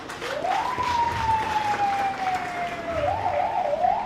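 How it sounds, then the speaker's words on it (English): A crowd at a Teachers' Day celebration in Freetown, Sierra Leone, claps continuously in a dense, even patter while a high sliding whistle tone rises and holds above the clapping. "Let's give them a big clap."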